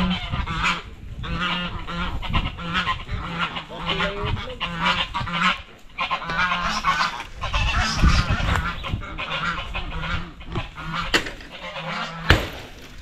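Ducks in a pen keep up a loud, close honking and quacking chorus, with calls overlapping in uneven bursts and a voice speaking briefly in the background.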